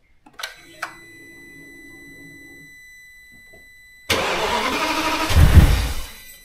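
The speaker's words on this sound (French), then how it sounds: "Tourner le démarreur, couper, selon comment elle réagit" An Audi S6 V10 engine, just after intake repair and valve cleaning, gives a few faint clicks and a short quiet spell, then catches abruptly into a loud, close roar that swells briefly before easing back.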